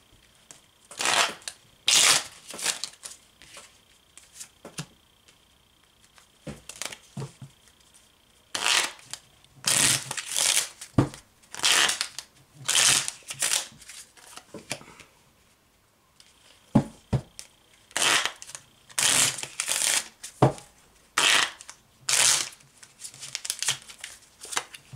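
Tarot cards are shuffled by hand in bursts of crisp riffling and rustling, close and fairly loud, with short pauses between rounds and no speech.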